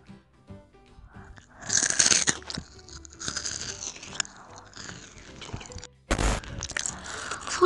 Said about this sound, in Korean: 소리도 맛있는 한국 치토스가 뭔가 더 맛있어요.